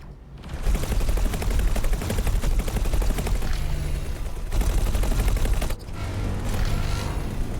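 Automated turrets in a video game firing a dense, continuous stream of rounds, loud rattling gunfire with booming impacts that briefly drop out twice before resuming.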